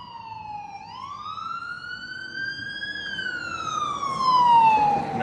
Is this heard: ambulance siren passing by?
yes